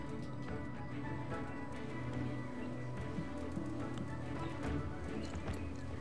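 Rapid rhythmic hoofbeats clatter continuously, like a horse galloping, over a busy background of ambient game sound.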